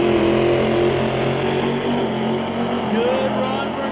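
A nitrous drag race car makes a qualifying run at Mission Raceway Park, its loud engine roar steady at first, then easing off with a rising whine near the end.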